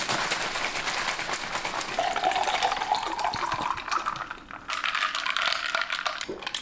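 Collagen goes into a water bottle packed with ice: continuous watery sloshing and pouring with small clicking, rattling knocks of ice against the bottle, close and fairly loud, with no talking.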